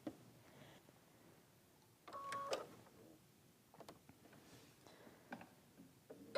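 A sewing machine stitches a half square triangle quilt unit for a baby quilt with a quarter-inch seam, giving a faint, brief mechanical whir and a few light clicks near the middle of an otherwise quiet stretch.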